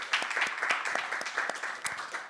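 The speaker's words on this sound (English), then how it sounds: "A round of applause to them." An audience applauds colloquium guests, with steady, dense clapping from many hands at moderate loudness throughout.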